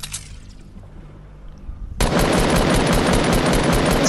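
Gunfire from the video game Fortnite Battle Royale: after a quieter stretch of game noise, a loud, sustained burst of rapid shots erupts and keeps hammering without pause.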